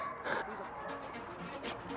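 A Rottweiler gives short yipping barks and whines at close range, loud bursts over a noisy background with some voices mixed in.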